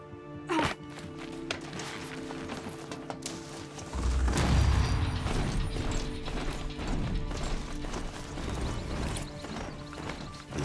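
A horse trots in the video game Horizon Zero Dawn with a steady clip-clop of hooves. Mechanical clanks and whirring sound over the hoofbeats, which get louder and busier partway through.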